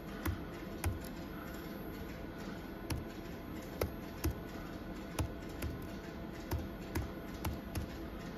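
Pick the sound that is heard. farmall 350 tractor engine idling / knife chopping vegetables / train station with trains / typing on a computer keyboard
typing on a computer keyboard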